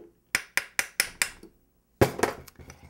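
A wedge tapped against a metal jewelry ring on a ring mandrel to stretch it: five sharp, evenly spaced metallic taps, a pause, then a quicker cluster of taps close up.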